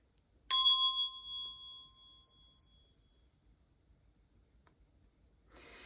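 A single Montessori bell is struck once and rings with a clear, bright tone that decays over about two seconds before the damper pad quiets it, leaving near silence and a faint rustle at the end.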